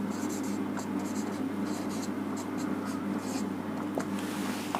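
Chalk or marker scratches out an equation on a board in short, quick strokes with small pauses, close and clear over a steady low hum.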